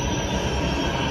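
A metro train rumbles and screeches into a station, a steady close roar of wheels on rails with metallic squeal, brief and without speech.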